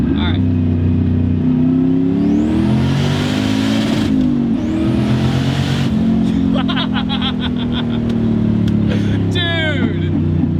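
A 650 hp tuned Volvo wagon pulling hard in second gear from about 40, its engine note rising loud and close with shifts in pitch, while people talk over it.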